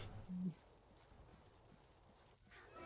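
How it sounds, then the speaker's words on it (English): A cicada-like insect in the Monster Hunter XX video game, a sustained shrill high-pitched buzzing drone running steadily through the whole stretch over faint low game ambience, with a brief low tone near the start. "Like a weird cicada thingy."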